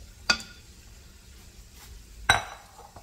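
Two sharp clatters of green papaya pieces dropped into a cooking pot, spaced about two seconds apart over a faint quiet background.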